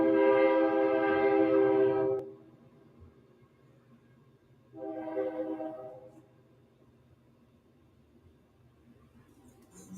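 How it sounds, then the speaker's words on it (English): A train horn sounds loud and sustained for about two seconds, then a second, shorter and slightly softer blast follows after a pause, over a low rumbling background. "You hear my train?"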